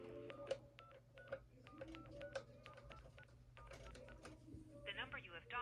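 An old telephone, a great-grandmother's handset on a DSL-filtered line, sends a quick series of dialing tone beeps, near and distinct, with a short burst of higher warbling tone at the end.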